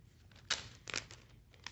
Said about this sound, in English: I'm going to open this bag